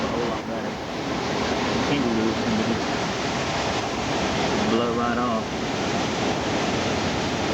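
Hurricane Katrina's wind roars as a dense, continuous rushing noise close to the microphone, with faint voices partly buried beneath the gusts.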